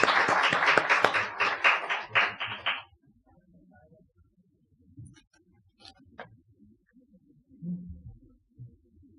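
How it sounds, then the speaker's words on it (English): Brief round of applause for Professor Francis Clooney at a welcome ceremony for a discourse in Mumbai, dense clapping for about three seconds that stops abruptly, then quiet room noise with faint shuffles. "A round of applause, please."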